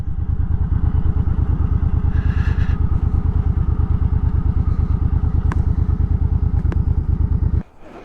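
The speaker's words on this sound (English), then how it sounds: "I'm going to park the bike up here." A motorcycle engine running with a steady rapid thumping idle on gravel for several seconds, loud and close, then cutting off abruptly as the bike is parked.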